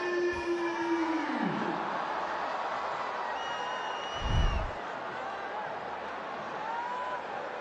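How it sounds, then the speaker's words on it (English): Cricket crowd noise during a Pakistan T20 run chase after a six into the stands: a steady, distant roar of spectators with scattered whoops and a brief louder swell. "The crowd's absolutely involved in this run chase as well"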